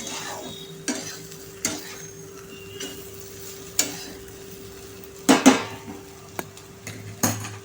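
Potato bhaji with spices being stirred in a pan, a spoon scraping and clinking against the metal in repeated strokes over a soft, steady sizzle, close and alone.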